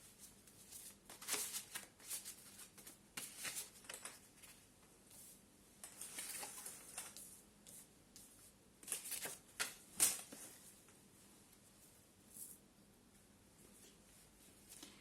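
A deck of oracle cards is shuffled by hand in soft, intermittent rustling bursts, close and quiet, with faint slaps and flicks between pauses.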